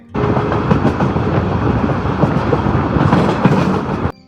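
A Darjeeling Mail passenger train from Sealdah running on rails gives a loud, close, continuous rumble with rhythmic clickety-clack from the wheels throughout, and no voices.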